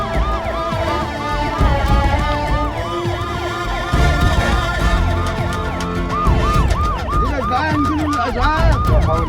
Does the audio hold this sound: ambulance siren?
yes